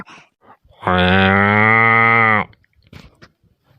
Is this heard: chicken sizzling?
no